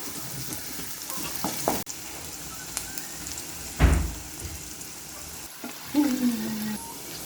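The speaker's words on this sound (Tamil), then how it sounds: "உள்ளி கொஞ்சம் நல்லா வதங்கட்டு கொஞ்சம் கோல்டன் கலரில் வரும்" Garlic frying in oil until golden, a steady close sizzle broken by a few sharp scrapes and stirring knocks of a spoon against the pan.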